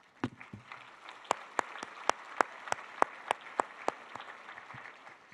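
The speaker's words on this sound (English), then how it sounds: "I think everybody here deserves a round of applause for you," Sparse, distinct hand claps ring out at a gala, a few people clapping at a steady pace rather than a full crowd, fairly quiet with a roomy echo.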